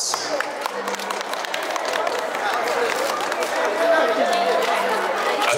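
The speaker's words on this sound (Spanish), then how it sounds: "¡Fuerte las palmas!" Guests at a Peruvian baptism celebration clap steadily. The applause is loud and sustained and mixes with crowd chatter and voices.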